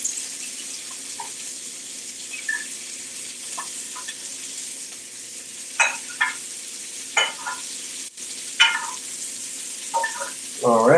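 Butter sizzles in a hot frying pan with steak, a soft, constant hiss broken by a few scattered pops and clicks, with a brief louder crackle near the end.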